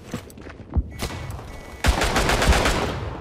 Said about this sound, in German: Ja, die Schüsse höre ich,